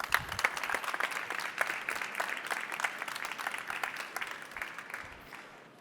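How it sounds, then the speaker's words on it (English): Audience applause at the Electronica Fast Forward Awards 2024 ceremony, a lively burst of clapping that thins out and fades toward the end, moderately distant. "please, a round of applause"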